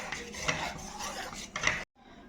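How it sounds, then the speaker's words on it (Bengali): Homemade beet colouring mixture stirred with a utensil in a bowl or pot, a steady scraping and swishing rhythm that ends abruptly in silence. "অল্প অল্প করে দেব আর নাড়তে থাকবো"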